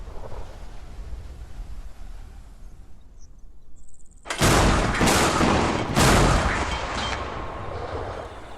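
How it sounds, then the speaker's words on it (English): Over rice fields, insects chirp faintly until sharp, booming cracks of thunder from an approaching hailstorm break in, loud and rolling in two strong bursts, then fading into a rumbling tail. "The enemy is an approaching hailstorm."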